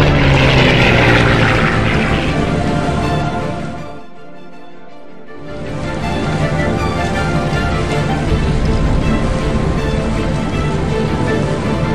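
A propeller plane engine from the Nintendo Switch game Iron Wings drones loudly and steadily, dropping away briefly in the middle before returning at full strength, with no talk over it.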